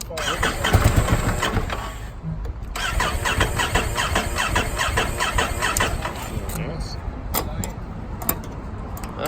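A 2019 Ducati motorcycle engine cranks and starts, then runs at a steady idle with faint squeals, close and fairly loud throughout.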